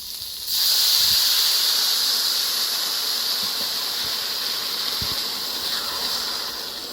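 Water poured into a hot pan of browned rice and vegetables for Mexican white rice sets off a sudden loud hiss of steam that keeps going and slowly settles.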